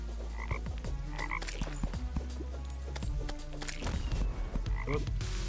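Toads croak repeatedly in a Terraria-style game, short throaty calls popping up every second or so over a steady rumbling backdrop and busy game noise.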